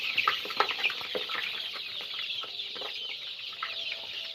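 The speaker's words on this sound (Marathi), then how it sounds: "ब्रूडिंग साठी आता हे पक्षी बावचाळले थोडे आपल्यामुळं" Many chickens cluck and chatter in a poultry brooding shed. The busy, overlapping calls run steadily throughout, moderately loud and close, with no talking.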